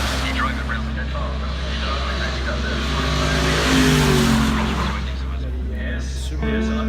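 A loud Mercedes-AMG GT3 race car runs along the Goodwood Festival of Speed course, a steady engine roar that swells as it passes near mid-way, with crowd murmur and people talking underneath.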